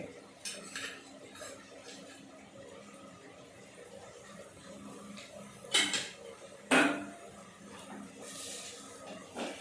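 Grated coconut being stirred into a dish in a cooking pot, a quiet scraping of a spoon with a few sharp metallic knocks and clinks against the pot rim, close by with soft background hum.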